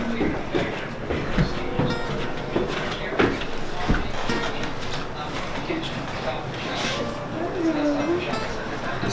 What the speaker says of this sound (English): Super loud train, too.